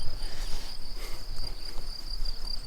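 Crickets chirp in a wildflower meadow, a steady high shrill trill running throughout over breezy outdoor rumble, with no talk.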